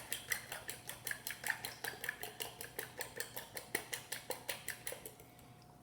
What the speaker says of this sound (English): Just beat the eggs really,